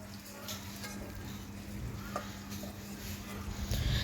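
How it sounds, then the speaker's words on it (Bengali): Chicken pieces fry in a pan until browned, giving a steady close sizzle with occasional stirring scrapes and clinks. "আমি মাংসগুলো একদম কোয়া কোয়া করে ভেজে নিচ্ছি"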